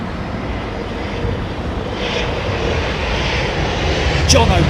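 A Boeing 777 airliner lands at London Heathrow in a crosswind, its engine roar broad and steady and building slightly toward the end, with faint voices talking beneath it.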